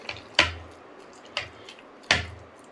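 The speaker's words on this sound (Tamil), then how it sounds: "அதே மாதிரி இந்த மாவு நல்லா அடித்து பிசையணும் இந்த மாதிரி." Milk bun dough being slapped and kneaded by hand in a home kitchen, giving three sharp, separate slaps with soft squishy tails at an uneven rhythm, close and fairly loud against a quiet room.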